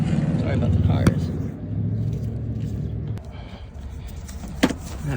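Road traffic rumbling past near an outdoor car repair, a low engine drone rising and fading as vehicles go by, with a couple of sharp metallic clinks in between.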